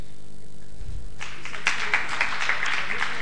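An audience claps to welcome a poet at a Hindi poetry gathering at Pt. Todarmal Smarak Bhavan. After a quiet opening second, dense, steady applause rises and continues to the end with a few louder claps.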